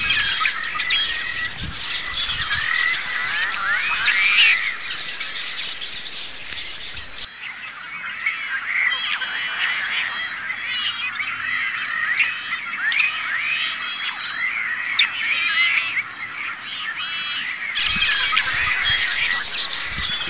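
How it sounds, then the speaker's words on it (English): A nesting colony of tricolored blackbirds at a waterfowl hunting club in Kern County calls continuously, with dense overlapping squawks, chirps and buzzy notes that stay loud and steady throughout. "Tricolored blackbirds have nested at this private property, a waterfowl hunting club, for 4 years in succession."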